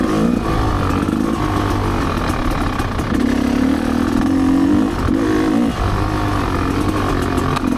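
A Rieju MRPro 300 dirt bike rides tight single-track on the Holton Loop's south section. Its engine drones close and loud throughout, its pitch climbing and dropping as the throttle is worked, with a brief lull near the middle.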